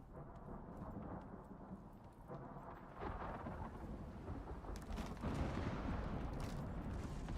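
A thunderstorm rages in the survival game Icarus, with a low continuous rumble and rain, rolling thunder swelling louder after a few seconds and again near the end, and scattered clattering hits throughout, no voices.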